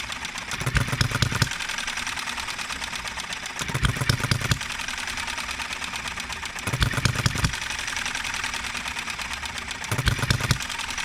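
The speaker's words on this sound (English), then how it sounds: "You get to hear the engine run." A tiny Enjomor 6cc hit and miss engine mounted on a cart runs with a rapid mechanical ticking, broken by short, louder bursts of firing roughly every three seconds before it coasts again, recorded close.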